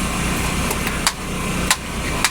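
Boat motor on a tuna fishing boat running slowly, a steady low churning hum with a few sharp knocks breaking through, fairly close and without talk.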